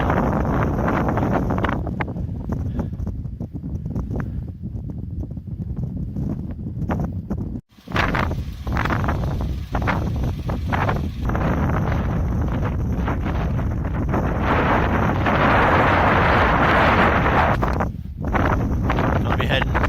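Strong wind buffets the microphone at Windgather Rocks near Fernilee Reservoir in heavy, continuous gusts, roaring and rumbling throughout with brief lulls.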